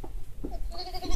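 Sheep and newborn lambs on a farm bleat in short, close calls, several overlapping cries within a second amid a busy pen.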